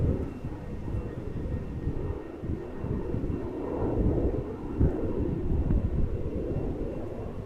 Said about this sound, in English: So that's the A321 from Privilege Style flying for KLM, coming this way, going to Billund.